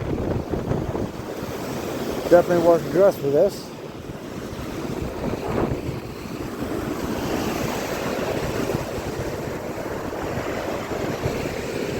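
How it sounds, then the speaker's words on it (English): Surf breaking on a rocky beach strewn with agates, fossils and beach glass, a steady broadband wash with wind buffeting the microphone throughout, while a person speaks briefly near the start. "Gotta watch the waves here, I already got my feet wet once."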